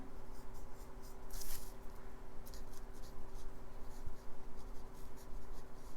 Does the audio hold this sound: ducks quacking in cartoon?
no